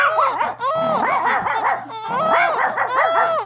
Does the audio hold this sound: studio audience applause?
no